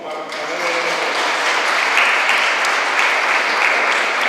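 Steady applause fills a quinceañera party in Xalitla, Guerrero, a dense wash of clapping from a gathered crowd that holds evenly throughout.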